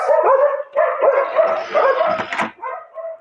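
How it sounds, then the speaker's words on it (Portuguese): Several dogs bark and yip loudly and excitedly nearby, overlapping in rapid bursts with a brief whimpering tone. "Gente, desculpa, os cachorros estão enlouquecidos."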